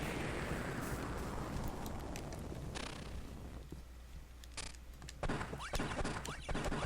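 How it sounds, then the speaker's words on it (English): A boss explodes in Kirby: Nightmare in Dreamland, a burst of noisy rumbling blasts that fade into scattered crackling pops and short sparkly effects, moderately loud and alone. "Kind of explodes."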